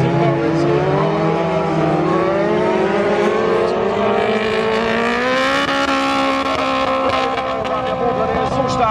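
Stock cars race around a dirt oval in Basepohl, their engines roaring loudly and continuously with rising and falling revs, while a commentator's voice talks over the racket throughout.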